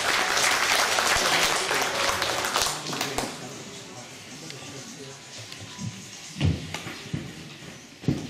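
Audience at a concert jubilee evening applauding, a dense burst of clapping that starts loud and fades into scattered claps, with a few knocks and bits of talk near the end.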